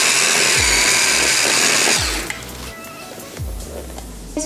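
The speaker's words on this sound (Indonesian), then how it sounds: "Saya akan blender" Electric blender grinding spice paste for rendang, its motor whirring loudly at first, then dropping to a lower, rougher churn, with short pulses as it restarts.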